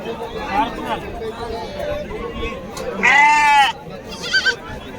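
Sheep at the busy Kashti sheep market bleating, one loud nearby bleat standing out and a shorter one after it, over steady crowd chatter and people talking.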